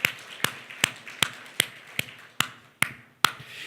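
Church congregation clapping in unison during a Korean sermon, nine sharp, evenly spaced claps in a steady beat, crisp and fairly close with quiet room noise between them.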